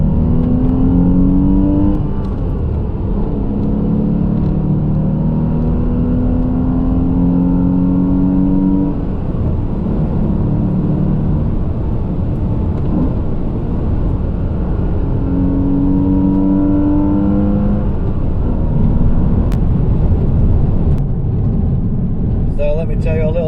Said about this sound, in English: It's a Porsche Boxster.